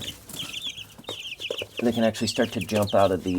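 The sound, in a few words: chicks clucking in a brooder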